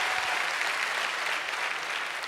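Dense, steady applause from an audience at a business team gathering in Jaipur, loud and sustained across the whole stretch with no voices.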